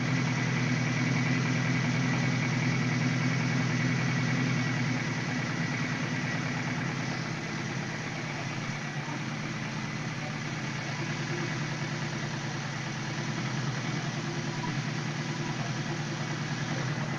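A 1978 Suzuki GS1000C motorcycle engine idles steadily after a carburetor cleanup, a constant low, even rumble that holds at the same loudness throughout with no talking.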